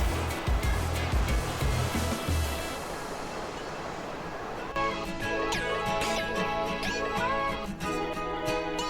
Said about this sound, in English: We have to cross over some large streams with strong currents.